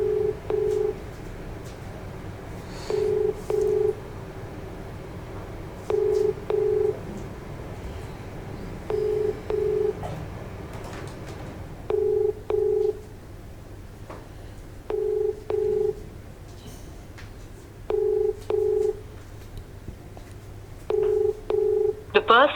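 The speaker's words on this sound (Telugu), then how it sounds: "సిఐ గారు కాల్ చేస్తున్నాను" An outgoing phone call to a police inspector in Uppal rings through the handset. Paired ringback tones repeat about every three seconds, eight times in a row, over a quiet background.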